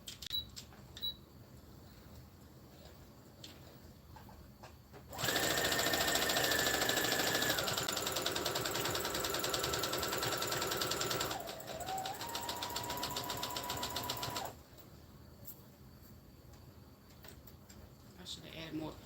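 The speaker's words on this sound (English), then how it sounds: "So I'm going to do another straight stitch and I'm going to go across here." A sewing machine runs a straight stitch across an infinity scarf, a steady close mechanical whir lasting about nine seconds with a shift in pitch partway through, then stopping, with quiet handling before and after.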